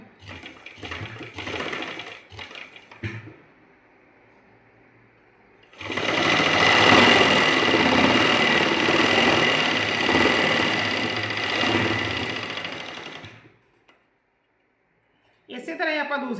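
A sewing machine stitches a salwar in two runs, a short stuttering burst followed after a pause by a long, loud, steady whirring stretch, close up. A voice can be heard around the stitching.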